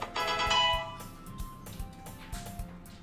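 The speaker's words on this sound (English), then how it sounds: "I looked at my phone and I got notifications" A phone notification chime plays as a bright, rising tonal jingle, loud and close at first, followed by a few fainter repeated tones with soft thumps between them.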